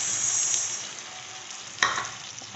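Palak spinach puree sizzles hard in a hot pan, a bright continuous hiss that eases slightly, then a sharp scrape or stir spikes near the end.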